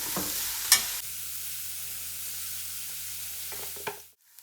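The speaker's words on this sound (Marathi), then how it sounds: "कांदा चांगला परतत आलाय." Onions sautéing in oil with salt in a pan, a soft continuous close sizzle with a couple of brief stirring clinks near the start and end, no talk.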